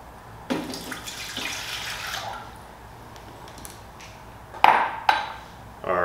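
Water pours from a container into the pan of a Cuisinart bread maker while making dinner roll dough, a splashing run of about two seconds followed by quieter handling noises and a few sharp clinks near the end.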